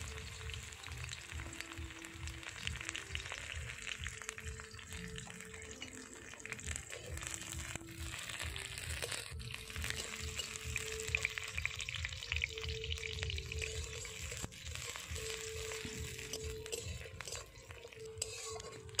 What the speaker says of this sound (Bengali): তেল গরম হয়ে গেছে, তেলের মধ্যে দিয়ে দেবো কুচিয়ে রাখা পেঁয়াজ এবং কেটে রাখা কাঁচা লঙ্কা।